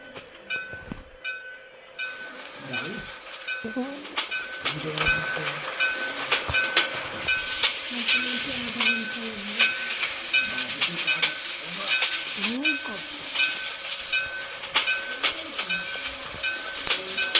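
A train running at full speed, close and sustained with rumbling wheels, hiss and intermittent clickety-clack over the rails, a steady tonal whine running throughout.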